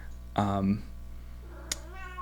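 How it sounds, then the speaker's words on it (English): A cat lets out one loud, drawn-out meow up close, then a softer, higher meow follows a second later in an otherwise quiet room. "We have our resident Rich Don cat here"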